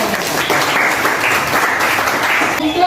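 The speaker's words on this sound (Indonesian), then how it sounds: "Tepuk tangan buat kita." A room full of people claps steadily for a few seconds, dense and loud throughout, with the applause easing slightly near the end.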